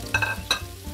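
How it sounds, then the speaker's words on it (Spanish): Cabbage and onion sautéing in a pan, a soft sizzling bed broken by two quick spatula scrapes against the metal, close and brief with no talking. "Bueno, pues vamos a rehogar estas verduritas."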